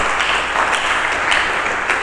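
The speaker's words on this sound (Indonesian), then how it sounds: "Berikan tepuk tangan bagi Yesus Kristus." A church congregation applauds during a sermon, a steady, dense wash of many hands clapping together at even loudness throughout.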